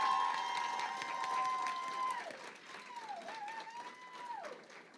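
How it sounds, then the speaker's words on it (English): Audience applause at a white coat ceremony for medical speech-language pathology students, moderate and steady, with a few whistles and cheers rising over the clapping crowd. "she deserves an even louder round of applause than that"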